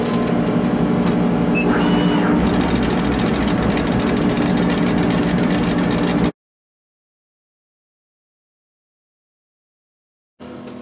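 An 80 watt laser engraver running at 65% power across a granite stone tile, giving a steady loud whirring hum for about six seconds before cutting off abruptly into silence, then starting again briefly at the end.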